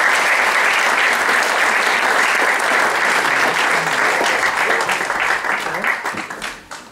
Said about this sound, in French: je vais maintenant demander à nos 3 intervenants de me rejoindre sur scène, toujours sur vos applaudissements, s'il vous plaît.